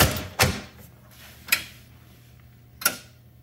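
Three separate sharp knocks of a Bally pinball machine's front door being shut and latched, spaced apart, each a crisp close thud over a faint steady hum.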